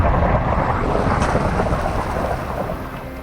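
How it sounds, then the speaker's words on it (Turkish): Stormy weather in Minecraft, with steady heavy rain and a rumbling thunder wash that fills the clip at a loud, even level, heard alone with no talking. "yanımda çakıyor şimşekler"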